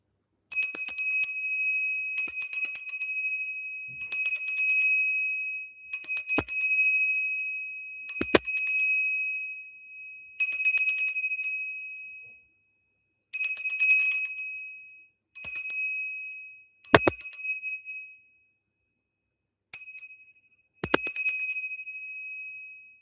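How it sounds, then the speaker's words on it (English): A small bright bell is rung about eleven times in quick single strikes, each ring decaying before the next, with brief silences between and no talk. "Listen to what the bell does."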